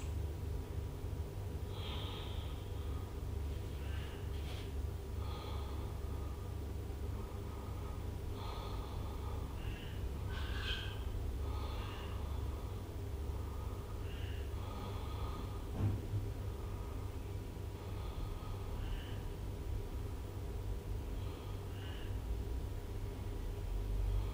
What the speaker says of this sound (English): And hold it here for 6 deep breaths.